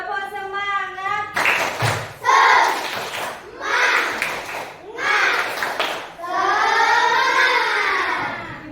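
A class of children does a rhythmic spirit clap in a classroom, with bursts of patterned clapping and chanted voices alternating with a teacher's speech, loud and close.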